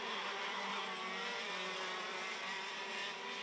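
KZ2 shifter karts racing at Mariembourg accelerate up through the gears toward sixth at full speed, a steady, dense high-pitched engine drone held at constant loudness throughout, fairly distant.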